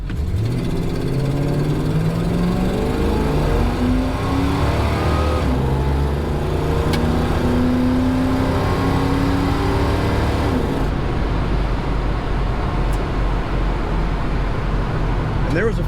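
A 1979 Chrysler Cordoba runs 0-60 with its automatic gearbox shifting on its own: the engine note climbs steadily, drops at each gear change and climbs again, loud and continuous, with a voice heard over it.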